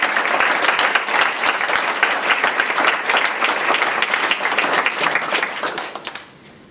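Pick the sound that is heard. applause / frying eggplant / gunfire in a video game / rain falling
applause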